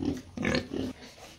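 A pig in a pen on a pig farm, three short close grunts in quick succession, fairly quiet, with no talk.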